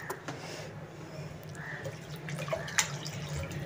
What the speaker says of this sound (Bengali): বলগুলো ভেজার মতো জলটা আমি দিচ্ছি